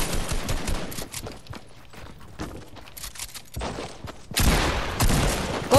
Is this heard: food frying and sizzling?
no